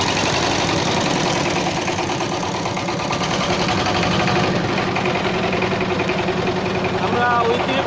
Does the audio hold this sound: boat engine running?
yes